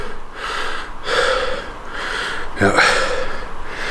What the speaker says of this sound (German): jetzt schnaufe ich noch ein bisschen durch